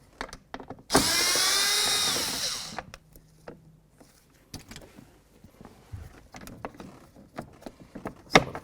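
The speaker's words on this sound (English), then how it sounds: "So let's remove these bolts. Just going to use a T20." Power driver with a T20 bit backing out bolts from a 2007-14 Ford Edge front door latch, one loud whirring burst of about two seconds, then scattered faint clicks and handling taps.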